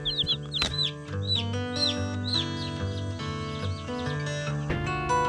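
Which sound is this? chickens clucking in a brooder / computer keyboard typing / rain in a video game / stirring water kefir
chickens clucking in a brooder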